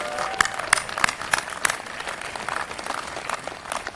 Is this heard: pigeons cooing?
no